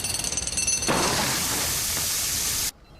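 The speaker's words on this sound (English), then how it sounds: "I've just bought a pneumatic drill." A pneumatic drill bursts into a loud, harsh, continuous rattling roar that holds steady for about two seconds, then cuts off abruptly into near silence.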